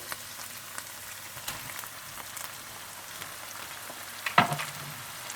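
Ginger and garlic frying in a pan for ginger chicken, a soft steady sizzle with light stirring scrapes and one sharper clatter near the end, no voices.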